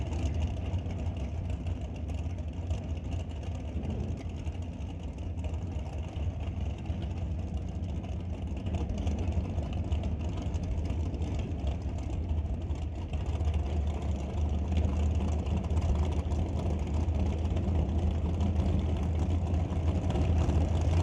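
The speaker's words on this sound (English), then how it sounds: "Dalglish running the 890 undercover dragster while Vinci runs the 1090 BNC Racing Chevy." Dragster engines at a drag racing start line, including an 890 dragster and a 1090 Chevy, give a continuous low engine rumble that stays steady and fairly faint.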